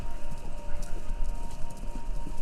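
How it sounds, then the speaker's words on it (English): Horses heard over a radio station in the video game Kentucky Route Zero: a continuous rumbling patter of many hooves running together, steady and dense under a hiss of broadcast noise. "It sounds like horses."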